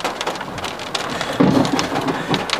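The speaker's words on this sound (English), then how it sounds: "there was one point where it was raining so hard we had to stop" Heavy rain pours down during a strong thunderstorm near Watonga, Oklahoma, a dense, steady roar of drops with a low rumble of thunder rising briefly underneath.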